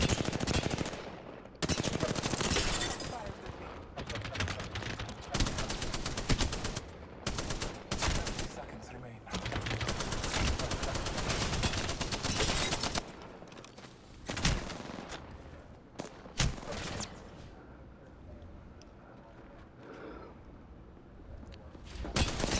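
Gunfire from the video game Apex Legends rattles in long, rapid automatic bursts with some single shots between them, fairly dense throughout, while a player talks over parts of the action.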